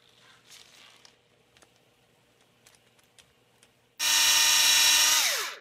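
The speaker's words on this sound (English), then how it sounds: "Now I'm just going to finish the hole all the way down, just straight down." After some quiet handling clicks, a power drill roars loudly up close for about a second and a half, drilling a hole while repairing a portable AC unit, then spins down.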